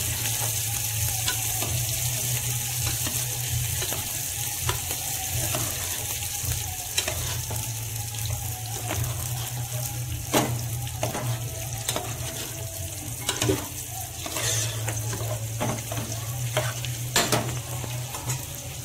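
Marinated chicken being stirred in a cooking pot for Indian chicken biryani, with steady sizzling and repeated scraping strokes of a utensil against the pot, close and continuous over a low, constant hum.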